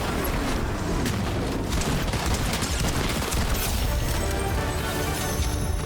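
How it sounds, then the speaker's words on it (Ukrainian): Dense, continuous gunfire crackles with bursts and booms overlapping nonstop, a thick, heavy barrage from a Fortnite battle. "десь спереді йде стрілянина, причому така плотна, ніби двоє стріляються"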